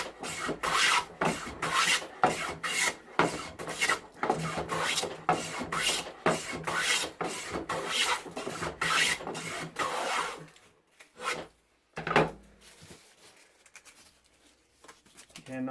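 A Faithfull No. 7 hand plane shaves wood in a quick run of repeated rasping strokes, close and fairly loud, then a pause and a few scattered strokes; a voice speaks briefly among them.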